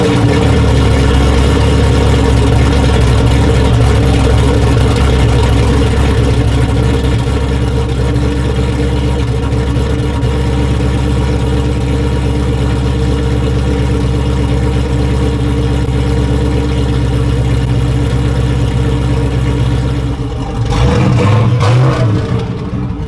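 A warmed-up V6 car engine idles steadily and loudly up close, with a deep, even rumble that holds for about twenty seconds before a brief shift and a door-like clatter near the end.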